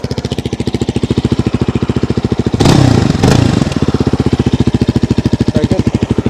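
A BSA Bantam single-cylinder motorcycle engine idles with a steady, even thump, loud and close. Partway through, a brief burst of revving swells over the beat, and then the regular idle thump resumes.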